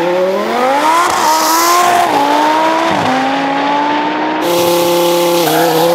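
A roughly 1,000-horsepower Hoonicorn Ford Mustang's engine revs hard in loud, rising and falling pulls, with tires squealing under throttle, close and continuous with no talk.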